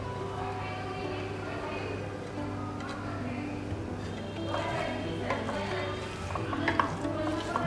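Mashed taki fish and onions being stirred in a pan, with soft scraping and a low sizzle running steadily throughout, growing a bit busier toward the end; no talk.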